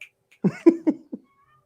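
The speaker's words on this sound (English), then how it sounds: "I heard a cat." A house cat meows a quick series of four short, close calls, loud against near silence in a home during a livestream.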